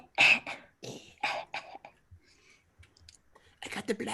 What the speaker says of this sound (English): It's someone out on the street coughing.